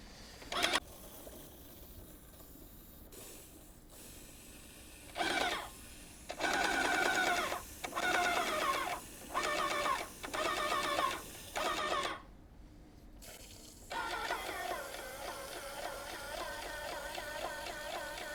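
An airless paint sprayer recirculating paint from the gun, a mechanical pump running in a string of short rhythmic bursts with brief pauses, then a longer steady run, moderately quiet and close.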